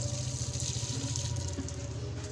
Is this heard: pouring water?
yes